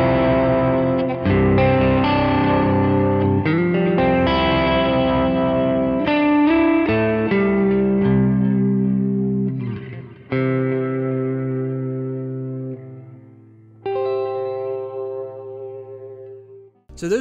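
Clean electric guitar through a free Tone Junkie Kemper profile with default reverb and delay, a lush worship-style tone; loud sustained chords and picked notes ring out with trailing echoes, alone without talk.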